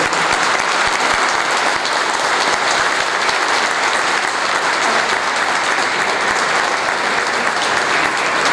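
Audience applause at a football club's centenary event honoring author Eduardo Sacheri, a full, loud and unbroken roar of many clapping hands that fills the room for over eight seconds, no talking over it.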